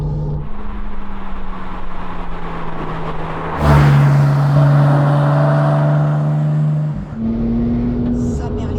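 A Porsche 996 Turbo, an all-wheel-drive car, drones steadily from inside the cabin, then its engine note surges louder and climbs as it accelerates before dropping back at a shift. Speech is faintly present beneath the engine.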